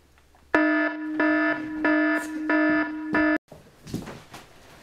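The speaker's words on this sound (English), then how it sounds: "But not for long. With the boom alarm clock." An alarm clock goes off with five loud, evenly spaced electronic buzzing beeps, then cuts out abruptly, followed by faint rustling movement.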